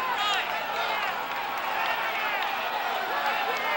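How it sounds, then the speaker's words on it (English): Spectators at a boxing match roar and buzz excitedly in a dense, sustained crowd noise, with a commentator talking over the top. "Crowd getting excited here."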